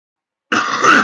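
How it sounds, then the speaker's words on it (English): A single close, loud cough blending into throat clearing, bursting abruptly after silence and lasting about half a second. "I've been coughing for hours, too."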